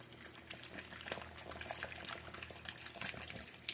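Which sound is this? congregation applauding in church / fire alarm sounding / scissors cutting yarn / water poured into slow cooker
water poured into slow cooker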